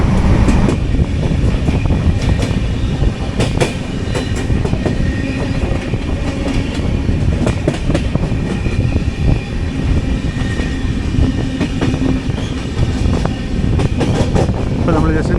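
The Mangala Lakshadweep Express runs at about 120 km/h with a loud, constant roar of wheels on rails and rhythmic clickety-clack from the carriage, heard from inside the train.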